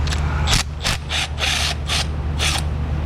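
A hand ratchet works a 12mm bolt free from the fuel rail of a 2009 Toyota Camry 2.5, giving several quick bursts of close, loud clicking separated by short pauses over a steady low hum.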